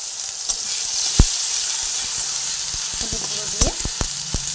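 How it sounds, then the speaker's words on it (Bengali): Tomato and turmeric powder fry in a pan while being stirred back and forth, giving a steady sizzle with scattered spatula scrapes and knocks close by, a few louder clacks standing out. "আবার একটু ভালোভাবে এধার ওধার করে ভেজে নিচ্ছি"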